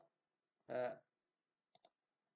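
Two quick, faint computer mouse clicks in close succession while working in AutoCAD 2014, heard after a short burst of a voice, in an otherwise quiet room.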